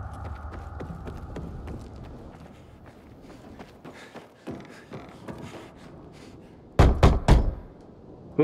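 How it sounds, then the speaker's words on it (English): Knocking on a door in the video game Dying Light 2, with soft scattered taps and footsteps, then a loud cluster of hard knocks near the end. "Knock on some doors."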